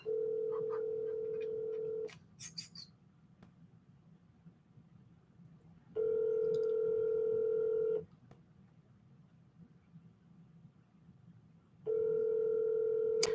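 An outgoing phone call rings while waiting for pickup, three steady electronic ring tones, each about two seconds long and separated by long quiet gaps over faint background hiss.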